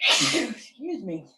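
A single sharp sneeze bursts out up close at the start of a classroom session, followed by a person talking.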